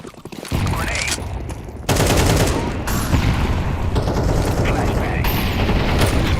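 Rapid bursts of video game gunfire and grenade explosions, loud and close, pile up in a dense, continuous barrage with booming hits and sharp crackles, while a player's voice calls out over the din.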